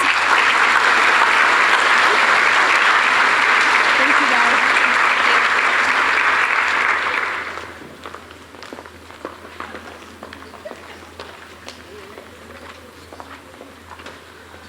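Applause from an audience at a school scholarship awards ceremony, a thick steady roar of clapping for about seven seconds that fades abruptly, leaving scattered footsteps, light shuffling and a brief spoken thanks.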